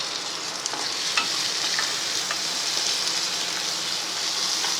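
Onion, tomato, green chili and coconut slices sizzle steadily as they are sautéed in a pan for a potato and pea kurma. A constant close frying hiss is broken by a few faint stirring clicks, with no voices.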